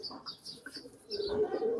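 A pigeon coos softly in short, faint murmuring calls, close by and with no one speaking.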